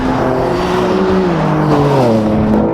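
Race car charging hot into a corner and braking: a loud, close engine drone whose pitch sinks steadily as the car slows, with no talk over it.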